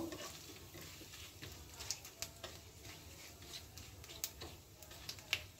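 Quiet sizzling of whole garam masala, two bay leaves and cumin frying in oil, with soft stirring scrapes and occasional light clicks from a spoon against the pan.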